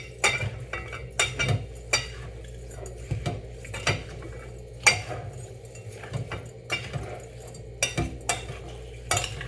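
Homemade shrimp paste, bagoong, being stirred in a bowl: repeated scraping and clinking of a spoon against the bowl in irregular strokes, close and moderately loud, with a low background hum.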